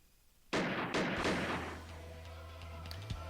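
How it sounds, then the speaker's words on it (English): Gunfire breaks out in the mafia visual novel Piofiore: Fated Memories during a battle: a few loud, sharp shots in quick succession, followed by a lingering rumble and a steady low tone. "Gunfire resounded throughout Arca."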